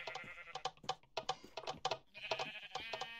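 Minecraft sheep bleat again and again in the video game, short wavering cries in quick uneven bursts, loud and close, with a few soft clicks between them.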